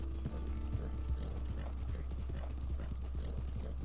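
Horse hooves clip-clop in a steady trotting rhythm while riding in the game Red Dead Online, close and continuous over a low rumbling background.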